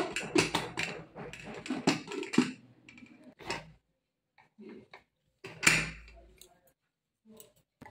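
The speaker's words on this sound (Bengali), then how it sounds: "কুকারের ঢাকনা লাগিয়ে দেব" A pressure cooker lid is fitted onto the pot while cooking boiled potatoes and eggs, making a string of sharp metallic clicks and clattering knocks, some clustered and some isolated, with short silences between.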